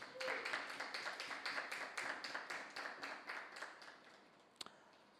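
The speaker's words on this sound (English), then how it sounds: "we thank you very much for that rather tepid applause" Thin, tepid applause from a small debate-competition audience after a quarterfinal round, a steady run of claps that thins and fades toward the end with a few scattered last claps.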